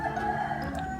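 A rooster crows in the background of a rural provincial home, a single drawn-out cock-a-doodle-doo heard fairly faint and somewhat distant, with no talking.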